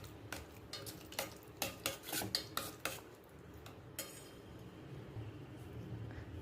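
A spoon stirring pearl millet porridge mixed with chopped shallots in a pot, a run of clinking scrapes against the vessel, then a softer steady mixing sound.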